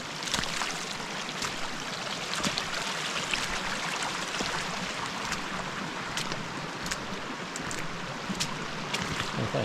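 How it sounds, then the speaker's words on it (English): Someone wades through a shallow, high-running mountain creek in Wellington boots on a trail, a continuous close wash of splashing and rushing water with scattered louder sloshes, no talking. "this creek I'm currently walking through is actually the trail"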